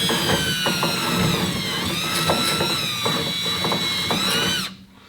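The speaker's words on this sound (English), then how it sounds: "You're going to take your wire wheel and you're going to try to clean carefully." A wire wheel spins against a motor starter to clean it, making a loud, steady whirring grind with small pitch dips as pressure changes, then cutting off abruptly near the end.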